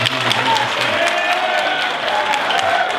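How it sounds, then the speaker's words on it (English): Audience applause at a 2013 Jersey City Heights mayoral forum, a steady wash of clapping filling the room for the full length, with voices murmuring underneath. "Please minimize the applause to allow Mayor Healy to have the full time to answer his question"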